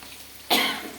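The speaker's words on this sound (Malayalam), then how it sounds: "ചുമ വരുന്നുണ്ട് അടുക്കളയിൽ." A single sharp cough in a kitchen while chillies are being handled, close and abrupt, trailing off briefly.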